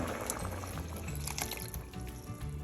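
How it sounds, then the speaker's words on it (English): Water pours steadily into a pot of Cambodian chicken rice porridge, a continuous splashing trickle that stays close and even throughout, with no voices. "I'm going to get ready to add the last of the water in here"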